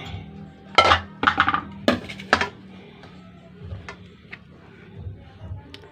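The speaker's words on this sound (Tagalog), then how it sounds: "Isasalansan natin dito sa kawali." Eggplant slices being laid into a frying pan, a few sharp clinks and knocks of metal and cookware in quick clusters, close by, then softer scattered taps.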